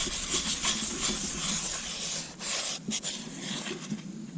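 Scotch-Brite pad scrubbing rust off a cast iron skillet, making close, continuous abrasive rubbing strokes with brief pauses near the end and no talking.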